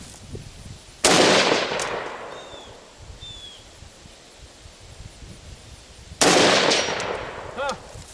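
Two sharp, loud rifle shots fired about five seconds apart, each followed by a decaying echo, with a faint metallic ring from 6-inch steel lollipop targets hit at 100 to 120 yards downrange.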